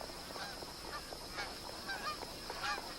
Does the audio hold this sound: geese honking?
yes